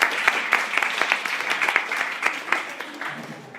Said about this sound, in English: can we give this a round of applause?